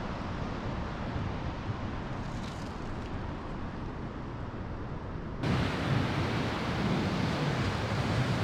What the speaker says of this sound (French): Magnifique plage.